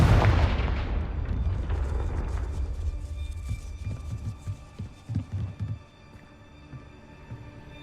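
A Confringo blasting spell from the game Hogwarts Legacy bursts in a loud, close explosion that fades into a deep rumble, followed by a few dull thudding after-booms.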